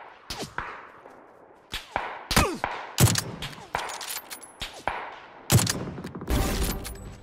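AWM sniper rifle fire in PUBG, a string of sharp, loud cracks with echoing tails, spaced irregularly and coming in rapid bursts toward the end.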